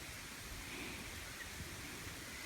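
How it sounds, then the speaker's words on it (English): Steady, hissing rain falling outdoors in Croatia, an even broadband wash with faint low rumble underneath and no voices. "It's raining even more."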